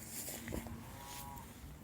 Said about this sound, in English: Including them cows, man.